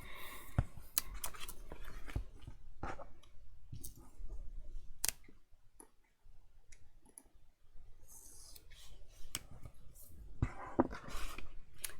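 Scissors trimming overlapping paper on a handmade mini album, a run of crisp close snips and clicks with short pauses, faint background noise between cuts.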